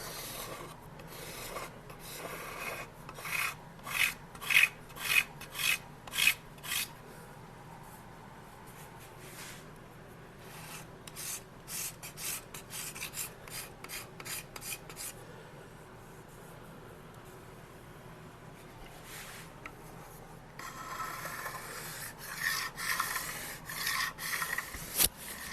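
A hand file rasps along the edge of a steel knife blank in rhythmic bursts of strokes, separated by short pauses, close and fairly quiet.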